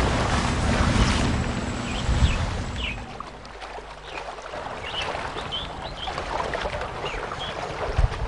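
Water swishes and laps against a boat moving through the mangrove creeks of Bhitarkanika, Odisha, while wind buffets the microphone, with faint bird calls chirping in the background.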